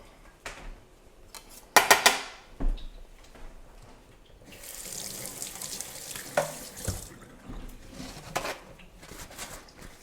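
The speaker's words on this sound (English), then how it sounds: "you wet your hand a little bit and you throw it in the pan" Water crackles and sizzles sharply in a hot pan in a few bursts, flicked in from a wet hand, with clinking and a short rushing spatter midway, close and moderately loud.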